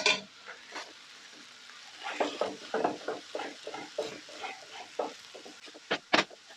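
Egg fried rice with ribs stirred in a pan over low heat: soft, quiet sizzling with irregular scraping strokes of the spatula, ending in a couple of louder clanks against the pan.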